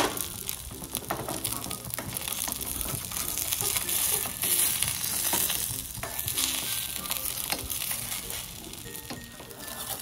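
A semolina tiffin snack fries in oil on a pan, producing a continuous dense sizzle and crackle with light scraping as it is turned over.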